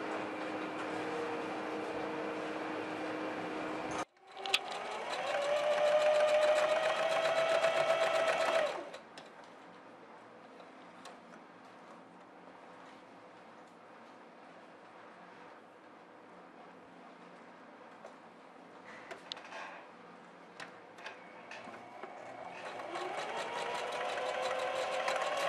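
Sewing machine stitching a seam on a baby bodysuit, running loud and steady for a few seconds, then stopping and restarting in quieter, intermittent bursts, with no voices.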